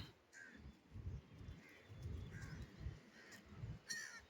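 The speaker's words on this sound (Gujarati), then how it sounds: "કાગડો જુઓ" A crow at the Ahmedabad riverfront gives several faint, spaced caws over a low outdoor rumble.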